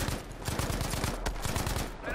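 Rapid gunfire from a Battlefield 5 multiplayer match on PC, dense bursts of shots crackling steadily and loudly throughout.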